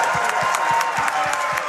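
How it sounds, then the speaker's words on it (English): A crowd at a speedrunning charity marathon event claps and cheers in sustained, dense applause, with regular thumping in the background. "So everyone give it applause and get ready for the run."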